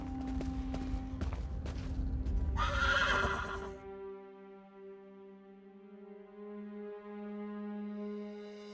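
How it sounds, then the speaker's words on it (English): A horse in the Elder Scrolls Online video game gives a loud, drawn-out whinny over hoof clops, then a low sustained tone lingers as the whinny fades. "Come, I acquired horses to speed us on our journey."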